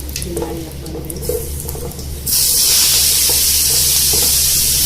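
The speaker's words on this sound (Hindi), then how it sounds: "और इसके बाद डाल देंगे सारी लौकी।" A loud, steady hiss erupts as wet grated bottle gourd (lauki) hits hot oil for lauki halwa, a sharp sizzle that jumps up suddenly and holds, with no one speaking.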